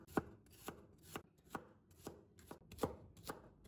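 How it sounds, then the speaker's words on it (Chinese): A knife slices garlic cloves on a cutting board. Eight crisp, evenly spaced taps of the blade striking the board come at a steady rhythm, quiet and close, with no voices. "切成蒜片。"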